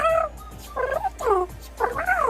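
A human voice imitates a cat-like Pokémon cry similar to Glameow, giving three or four short, rising-and-falling meowing calls in quick succession, close and clear.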